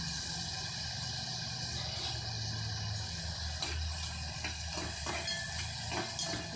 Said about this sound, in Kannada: ಆನಿಯನ್ ಮತ್ತು ಟೊಮ್ಯಾಟೊ ಹಾಕಿ ಫ್ರೈ ಮಾಡ್ತಾ ಇದ್ದೀನಿ.